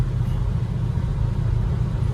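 A 1967 Chevelle SS 396 with a four-speed, its big-block engine droning low and steady from inside the car during a ride, with no talking.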